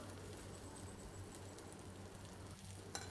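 Potatoes with cumin, ginger and masala sizzle steadily in a pan as a faint continuous frying hiss over a low hum, with a brief scrape or clatter near the end.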